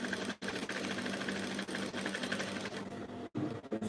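Sewing machine stitching the side seam of short pants, a steady close mechanical whir running almost continuously with two brief stops.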